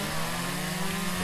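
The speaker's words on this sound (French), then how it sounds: "Bien évidemment, avec la tronçonneuse" A chainsaw in the video game Lumberjack Dynasty drones steadily at a constant buzzing pitch, a continuous mechanical whine without pauses.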